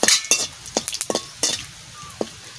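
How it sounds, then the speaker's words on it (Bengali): Cumin seeds and a few bay leaves sizzling in hot oil in a pan, the crackle broken by sharp metal spoon clinks and scrapes in an uneven rhythm, with no voices. "তেল গরম হয়ে গেছে, আমি জিরে দিয়ে দিচ্ছি আর কটা তেজপাতা দিয়ে দিচ্ছি"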